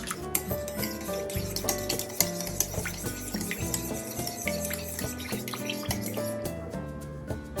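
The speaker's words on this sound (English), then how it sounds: "Then we're going to mix this all up." A utensil stirs a yeast, sugar and warm water mixture in a bowl for breadstick dough, making repeated scraping and sloshing strokes in an uneven rhythm for several seconds. No one speaks.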